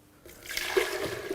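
Water pours into a blender jar for a raw doughnut batter, a short trickling splash that builds from quiet and runs steadily for about a second.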